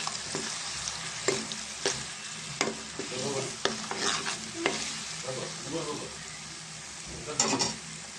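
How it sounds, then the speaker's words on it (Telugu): Onions frying in a pan with salt and turmeric for a spicy fish curry, giving a steady close sizzle broken by scraping stirs and occasional sharp clinks. "ఉల్లిపాయ అయితే ఫ్రై అయిందండి"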